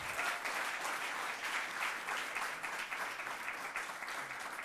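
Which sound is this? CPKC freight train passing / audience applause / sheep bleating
audience applause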